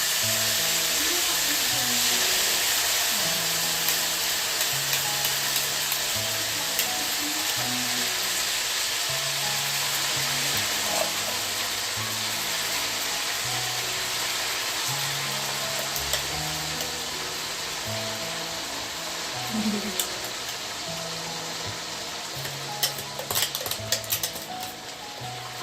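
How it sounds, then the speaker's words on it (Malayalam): Homemade hair oil bubbles and sputters in a pan on the stove as ingredients drop in, giving a steady close hiss and crackle beneath soft background music. "നമ്മൾ എന്തെങ്കിലും കടിയിലിടുമ്പോൾ ഇങ്ങനെ പതറും."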